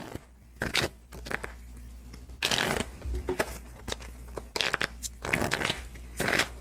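Playing cards being shuffled in several quick riffling bursts, close up, with short pauses between shuffles and no talking.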